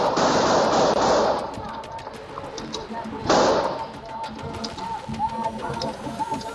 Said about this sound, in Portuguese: Até que os disparos começam.